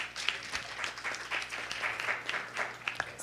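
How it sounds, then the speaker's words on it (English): A seminar audience claps in applause at the end of a training session, with steady, dense clapping lasting throughout, moderately loud and close, with no talk over it. "And a round of applause for you guys for such great questions."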